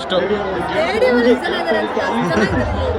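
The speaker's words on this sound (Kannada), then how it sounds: "ಇಲ್ಲಿ ಹೆಂಗಿದೆ ಕ್ರೌಡ್ ಅಂದ್ರೆ ಫುಲ್ ಸ್ಟೇಡಿಯಂ ಅಲ್ಲಿ ಬರುತ್ತಲ್ಲ ವೈಬ್" Steady crowd chatter at an IPL cricket fan park, many overlapping voices forming a loud, continuous hubbub with no break.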